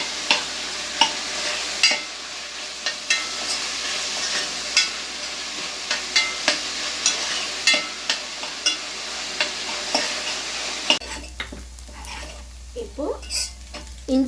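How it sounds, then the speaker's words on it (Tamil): Fresh curry leaves dropped into hot oil for a Kerala-style chicken curry crackle and sizzle steadily, with repeated sharp pops and spatters over a continuous frying hiss, close and moderately loud. "ஃப்ரெஷ்ஷாக ஒரு கொத்து கருவேப்பிலை போட்டுக்கோங்க"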